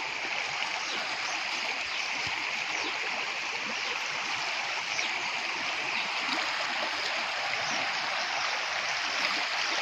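Floodwater runs across flooded farm fields where the soybean crop has been ruined, making a steady broad rushing wash that stays even and unbroken throughout.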